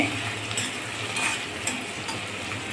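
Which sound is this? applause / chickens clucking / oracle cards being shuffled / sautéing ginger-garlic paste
sautéing ginger-garlic paste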